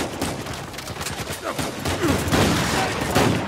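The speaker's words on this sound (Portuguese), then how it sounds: "Tiroteio comendo, mano." Uncharted 4 shootout with rapid bursts of automatic gunfire and single shots cracking in quick succession, some close and loud, others farther off, layered over game ambience.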